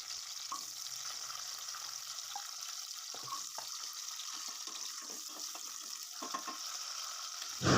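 Small shallots and cumin seeds fry in hot oil for a kongu-style ground-masala fish curry, giving a steady, fairly faint sizzle with scattered soft crackles and a few utensil clicks.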